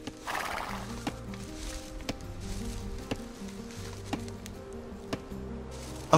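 Scout cavalry in the Age of Empires 2 video game: a horse whinnies and hooves clip-clop in regular, evenly spaced beats over quiet game ambience, with sharp periodic clicks.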